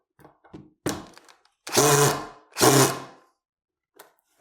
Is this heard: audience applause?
no